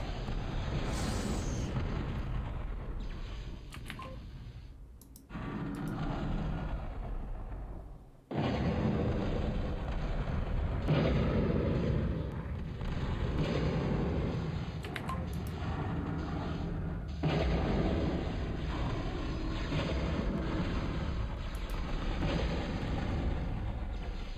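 Units in Total Annihilation firing on buildings under a shoot-all command, continuous battle noise of booming shots and explosions with a deep rumble, briefly dropping out before resuming steadily, no voices.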